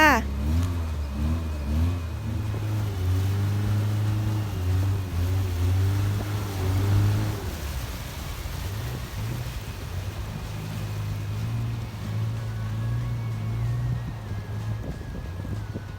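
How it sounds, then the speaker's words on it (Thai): A boat's motor drones steadily on the canal as the boat circles back toward Wat Bang Phli Yai. The pitch shifts early on as it turns, then settles into an even, close hum. "ตอนนี้คนขับเรือก็กำลังวนเรือกลับไปที่วัดบางพีใหญ่ในกันค่ะ"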